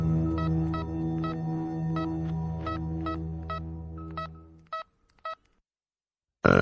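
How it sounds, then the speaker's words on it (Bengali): A run of about a dozen electronic keypad tones, evenly spaced then sparser, over a steady low hum that cuts out near the end, followed by a sudden burst. "এই কথা মাথায় আসতেই আমি অবনীবাবুকে ফোন করি।"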